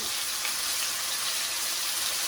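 Red snapper fillet frying skin side down in a hot pan, giving a steady, dense sizzle that holds evenly throughout with no talking.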